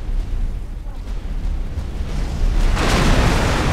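A station module blowing apart in the space game X4: Foundations, a heavy rumbling roar that swells and grows louder near the end, dense low-end booming without clear separate hits.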